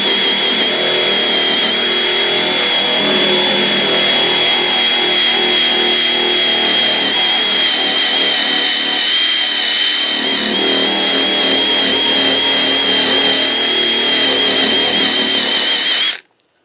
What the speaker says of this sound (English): I'm going to be using my drill that just plugs in.